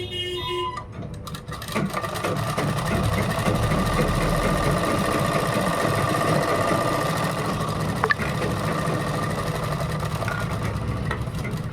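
A sewing machine runs a steady, continuous stitch along the side seam of a kurta, its close mechanical whir holding an even level for nearly twelve seconds with no talking.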